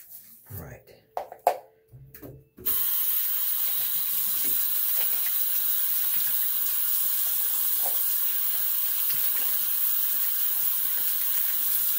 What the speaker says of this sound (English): We are sticking with warm water.